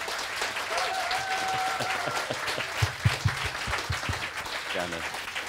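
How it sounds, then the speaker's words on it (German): Lecture audience applauding a visiting speaker, steady crowd clapping under overlapping talk, with a few louder close claps and a brief whistle-like tone. "Herzlichen Dank, Applaus bitte, dass er extra für euch auch herkommt."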